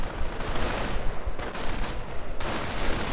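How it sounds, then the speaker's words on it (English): Grenades and gunfire in a real-time strategy battle game, a dense roar of rapid overlapping blasts and shots, loud and continuous with brief lulls. "Grenades going off."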